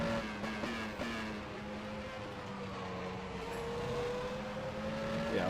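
A 1996 Formula 1 car in the racing game rFactor 2 at Circuit de Catalunya drones at high revs, its engine pitch sliding steadily and shifting gear briefly, loud and continuous with no talk.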